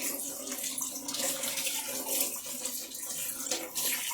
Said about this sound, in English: Now I'm just going to rinse my hands.